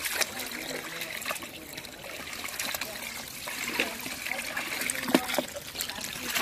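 Live crawfish are wetted and stirred in water for a backyard boil, a close sloshing trickle and splash with scraping and knocks, fairly quiet.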